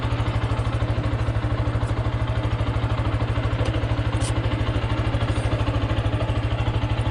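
A Zontes G1 125 scrambler motorcycle idles warm and close, its single-cylinder engine thumping in a fast, perfectly regular beat with a light mechanical clatter, unchanging from start to finish.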